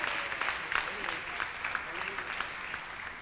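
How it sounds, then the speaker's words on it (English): Audience applauds a panelist at a business event, a fairly soft, distant patter of clapping with a few voices murmuring underneath and occasional louder claps. "Please, a round of applause for her."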